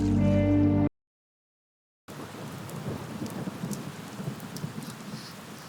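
Rain falls steadily with rumbling thunder in a dubbed movie scene, heard after a loud music-like passage cuts to a brief silence; the downpour then continues as a dense, even hiss with faint distant rumbles.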